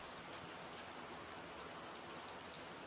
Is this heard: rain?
yes